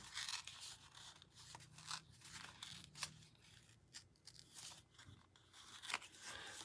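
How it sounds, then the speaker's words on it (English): Paper torn by hand in a series of short rips and crinkles, close and fairly quiet, with brief pauses between tears. "Then I'm just going to take and tear this down, okay?"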